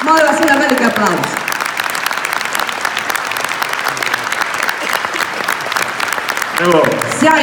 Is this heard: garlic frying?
no